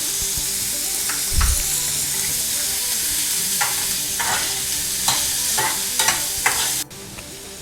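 Ginger and green chili frying in a pan, a bright steady sizzle punctuated by spatula stirs and scrapes, close and alone, dropping off sharply just before the end.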